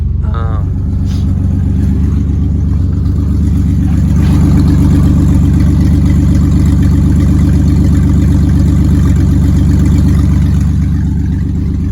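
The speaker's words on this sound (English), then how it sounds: "It is just your classic V6." The V6 engine of a 2000 Ford Ranger pickup idles loudly and steadily up close, a deep rough rumble with a brief rise early on, no talking.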